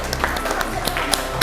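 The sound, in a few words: applause for group 3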